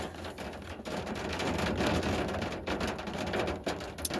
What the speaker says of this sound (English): And here we go, more rain.